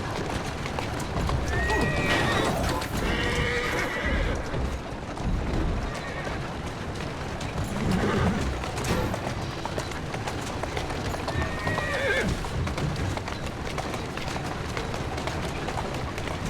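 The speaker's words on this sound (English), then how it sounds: "Who's a good horse?" In the Assassin's Creed Syndicate video game, a horse pulling a carriage whinnies several times while its hooves clip-clop in a steady trot, loud and close, with brief voices now and then.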